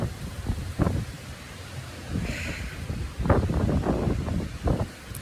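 Strong dusty wind sweeps across the open plains, gusting and roaring into the microphone in uneven buffeting surges with rustling underneath.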